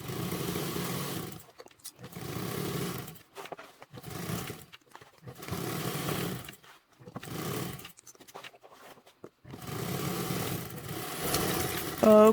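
A sewing machine stitches a 3/8-inch seam on a Taylor convertible duffle bag, its motor whirring in repeated close bursts of about a second, separated by short pauses.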